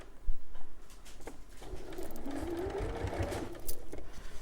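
A sewing machine stitches piping onto a floor cushion, its motor whirring in a steady, close run that rises slightly partway through and ends with a few light taps.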